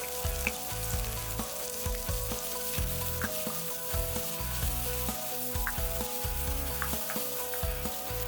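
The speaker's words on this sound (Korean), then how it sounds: "버터가 다 녹으면 먼저 다진 양파와 마늘을 볶아줍니다." Chopped onion and garlic sautéing in melted butter in a pan, a steady close sizzle with scraping stir strokes throughout, no voices.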